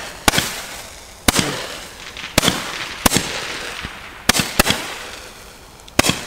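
An Xplode Roman candle with red and green effects shoots a series of about eight loud, crisp bangs at uneven spacing, each tailing off in a brief hiss, with no talking over them.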